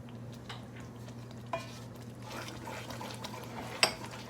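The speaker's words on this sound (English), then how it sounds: "And roast the peanut. Turn low heat, okay? Medium heat." Peanuts roasting in a pan over low to medium heat for Lao suki yaki sauce, a faint quiet crackle and soft scraping with an occasional sharper tick, no talking.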